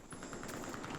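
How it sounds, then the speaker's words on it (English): An M249 light machine gun in Battlefield 4 fires a rapid, evenly spaced burst of about a dozen rounds, faint and steady throughout. "Now we get to the M249. This light machine gun works really well for close quarters, mid-range, and long range."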